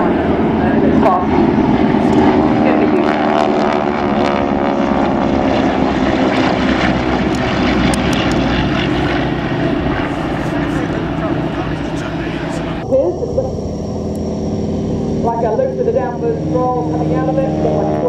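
North American Harvard propeller aircraft, an RNZAF historic example, flying at an air display at Ohakea, a loud sustained engine drone that stays steady and close throughout with a slight change in tone near the end.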